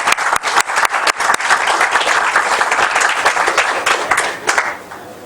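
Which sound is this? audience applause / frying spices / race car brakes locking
audience applause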